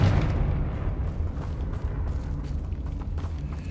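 A Confringo blasting spell explodes in Hogwarts Legacy, a deep rumbling boom that rolls on as a sustained low roar with crackling debris, loud and close, no talk over it.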